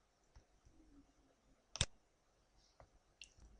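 A computer mouse gives one sharp, close click partway through, with a few fainter taps around it in a quiet room.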